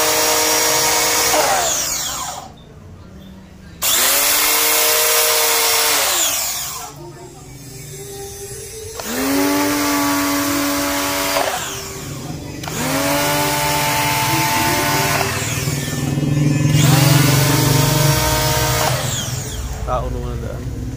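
A Greenfield 1400W pressure washer with a broken hose spring sprays hard outdoors, its motor whine rising and cutting out in repeated bursts with brief gaps, loud and close, while someone talks over it.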